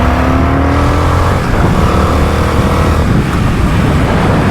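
A Limited Edition Indian FTR 1200 R Carbon motorcycle engine roars and revs continuously, rising in pitch at moments, heard close up with heavy rumble throughout.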